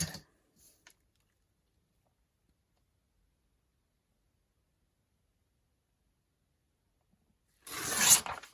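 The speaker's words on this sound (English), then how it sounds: "I need to tear a strip off" Paper being torn into a strip for a craft project, a short burst of ripping near the end after a long quiet stretch, with a faint rustle at the start.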